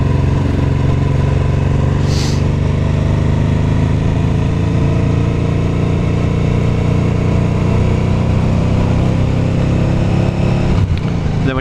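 A Honda NT700 motorcycle engine pulling steadily uphill on a ride along the North Yorkshire coast, a loud, continuous low engine drone with rushing wind close to the microphone.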